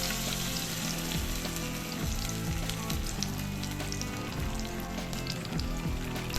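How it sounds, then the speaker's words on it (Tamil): Marinated masala fish sizzles and crackles in hot oil in a pan, a dense, continuous frying hiss with scattered pops and bubbling, close and loud with no talking. "இப்போ அதே எண்ணெயில் மீனை போட்டு நல்லா பொரிச்சு எடுத்துக்கலாம்"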